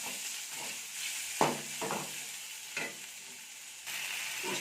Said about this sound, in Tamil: இறால் சேர்த்துக்கலாம். இது நல்லா ஃப்ரை பண்ணிக்கலாம்.